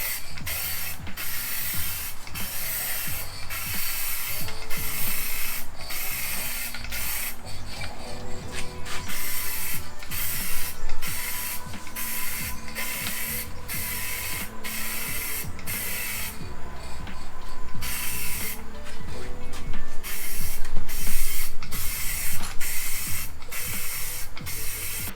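Aerosol spray paint hissing onto a BMW M Sport bumper, a long series of loud rhythmic bursts with short pauses between passes, close to the microphone.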